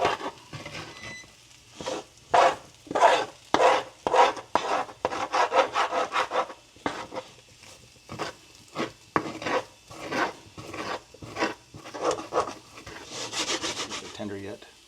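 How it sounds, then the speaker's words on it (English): Metal spatula scraping stuck potatoes off a HexClad hybrid frying pan during a breakfast scramble, a run of short, rasping strokes repeated in an uneven rhythm, close and fairly loud with no talking. "it does come off the pan when you scrape it"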